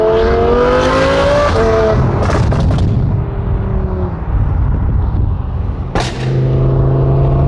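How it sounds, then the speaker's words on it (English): An Audi R8's valveless exhaust revs loudly and harshly close by, with sharp pops and crackles between throttle blips. "this car does not have valves either, so it's really loud"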